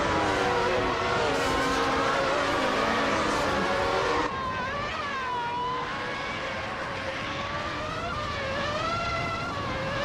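A 1995 Benetton B195 Formula 1 car racing in a video game, its high-pitched engine whine steady and loud, with harmonic tones that sweep up and down through gear changes and a brief dip in tone midway.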